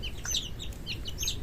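Chicks on a farm peeping and clucking in short, bright bursts, several birds calling in quick succession close by, with no voices over them.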